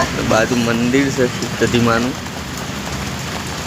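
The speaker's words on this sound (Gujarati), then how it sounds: "અને બહાર વરસાદ ચાલુ છે ફૂલ." Heavy rain falls outside with a constant loud hiss, while a person talks over it.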